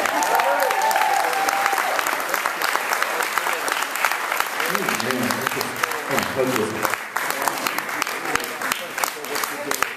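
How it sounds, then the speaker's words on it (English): A church congregation breaks into sustained applause for a fellow member, dense and loud throughout, with some cheering and voices mixed in the crowd noise. "round of applause for Brother Smith."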